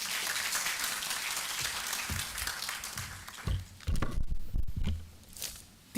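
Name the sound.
audience applause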